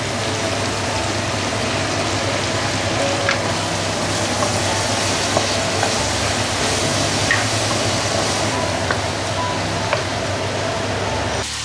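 Pork belly, scallion, ginger and garlic sizzle in a hot wok during stir-frying, giving a loud, steady hiss with small scattered crackles and pops that runs on without a break.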